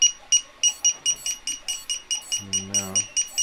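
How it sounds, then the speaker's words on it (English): A device emits a rapid series of short, evenly spaced electronic beeps, each one clear and sharp, with a lower buzzing burst cutting in near the end. "Now it's gonna beep."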